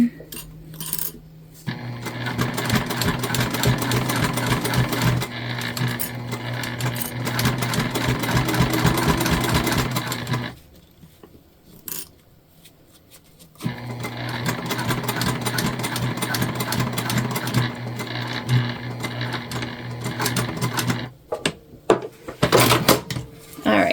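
A sewing machine runs in two long bursts of rapid, steady stitching through vinyl for a handbag, separated by a quiet pause, ending with a few short clicks and taps of handling.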